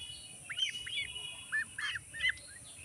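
Young duckling chicks peep in a handful of short, high chirps scattered over a few seconds. The calls are faint and set against a steady low background hum.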